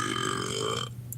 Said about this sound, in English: Hey, Google, can you burp?